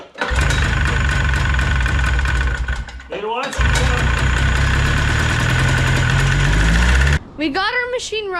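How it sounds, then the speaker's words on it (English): A snowmachine engine runs loudly and steadily up close, cutting out briefly near three seconds and again after seven, as it fails to hold an idle; people speak over the running engine. "We got our machine running, but it won't idle"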